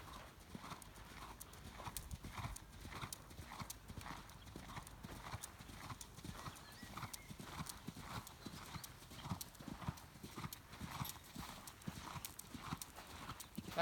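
A horse canters during a riding lesson, its hooves beating a steady, regular rhythm throughout. The footfalls sound fairly faint and a little distant, and no one speaks.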